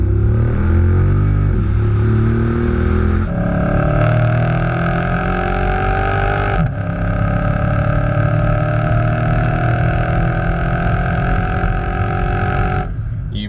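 A 2014 Dodge Charger SRT8 Super Bee's exhaust revs repeatedly, the V8 tone rising and falling in loud, close sweeps with a steady rumble between blips.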